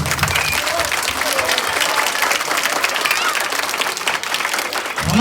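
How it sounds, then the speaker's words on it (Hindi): Sustained, loud applause from the audience at a school annual day function, a dense, continuous wash of clapping from a large crowd that holds steady from start to finish. "उनके सम्मान में एक जोरदार ताली बजा दीजिए।"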